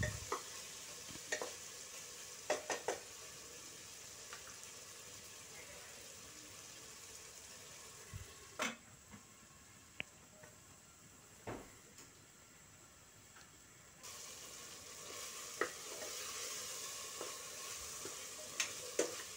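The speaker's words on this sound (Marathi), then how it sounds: "हे मॅरिनेट केलेले प्रॉन्स आहेत, ते पण आपल्याला व्यवस्थित हलवून घ्यायचे आहेत" Marinated prawns fry in a pan and are stirred, a faint, low sizzle running throughout with sparse clicks and clatters of the utensil, one brief lull midway.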